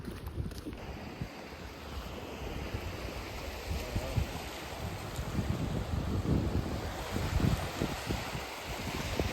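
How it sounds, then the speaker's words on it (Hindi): Ocean waves roll and wash in at Gangasagar, where the river meets the sea, a continuous rushing surf swelling louder toward the end, mixed with buffeting wind against the microphone. "भाई साहब, आवाज़ सुन रहे हो लहर की?"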